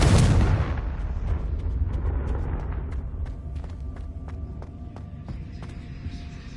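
Confringo blasting spell in the video game Hogwarts Legacy: a loud, close explosion bursts at the start, then rolls into a fading rumble with scattered small crackles and debris clicks.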